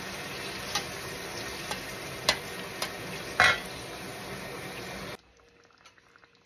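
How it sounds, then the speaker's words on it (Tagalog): Pork liver fries in a pan with a loud, steady sizzle and occasional sharp utensil clinks close by, then the sound cuts off abruptly to near silence. "I'm frying my pork liver right now."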